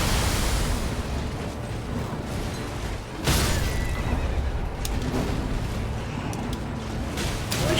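A horse neighs loudly in The Last of Us DLC, a harsh whinny over a noisy, rumbling background, with a fresh burst of sound partway through.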